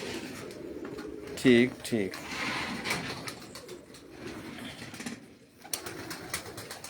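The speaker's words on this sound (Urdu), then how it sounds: "یہ جو نظام والے کبوتر ہیں یہ کون سے کبوتر ہیں؟" Racing pigeons of the Pipla breed coo on a rooftop in Punjab during a flying competition, with a short burst of coos partway through, mostly under a voice and background noise.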